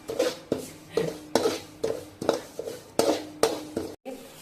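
Poppy seeds and white sesame roasting in a little hot oil, a utensil scraping and knocking against the pan in about nine regular strokes, roughly two per second, close and fairly loud.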